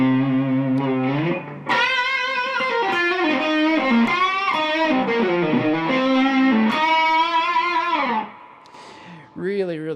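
An electric guitar plays through a Mesa Boogie TA30 valve amp on a high-gain setting, with sustained distorted notes and bends in a continuous melodic phrase, loud and close, dropping briefly near the end before a final stab.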